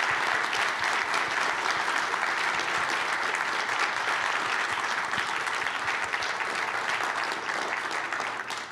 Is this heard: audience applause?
yes